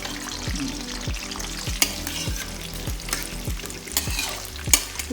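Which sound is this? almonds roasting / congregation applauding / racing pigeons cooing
almonds roasting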